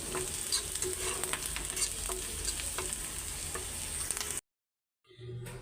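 Red amaranth greens sizzle and crackle in a pan while being stirred, with scattered ticking pops throughout, then the sound cuts out briefly before resuming faintly.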